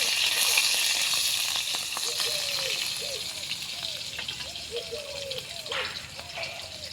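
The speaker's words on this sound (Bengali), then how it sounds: "3-4টে কাঁচা লঙ্কা চিরে নিয়েছি আর রসুন থেতো করে নিয়েছি, দিয়ে দেবো। ফোড়নটাকে একটু নাড়াচাড়া করে নেব।" Slit green chillies and crushed garlic tempering in hot oil for a jute-leaf and prawn curry, a loud hissing sizzle at first that settles into steady frying while being stirred, with faint chirping sounds in the background.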